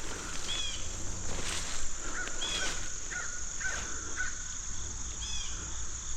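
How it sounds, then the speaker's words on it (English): Crows caw in a rural Kentucky graveyard, several short harsh calls scattered across a few seconds at moderate distance over a steady hum of insects and background noise. "The crows add a really nice little"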